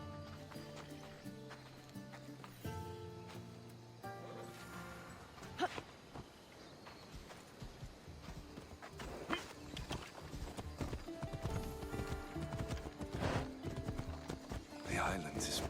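Rhythmic hooves clip-clop as a horse gallops along in Assassin's Creed Odyssey, the beats growing denser and louder toward the end, with music and voices running alongside.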